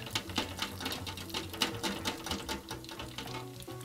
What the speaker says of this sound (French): Donc là, on trempe directement dans la friteuse